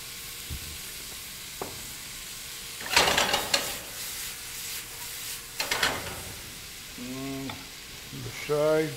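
Stir fry sizzling hard in a pan in loud bursts, with quieter stretches of frying between them and a voice speaking briefly near the end.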